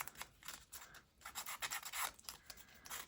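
A sanding block rubs around the edges of a paper envelope in faint, short scratchy strokes, quiet and close with small pauses between passes.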